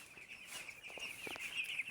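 Farm chickens raised without vaccines or medicine give soft, scattered clucks close by, set against a quiet background.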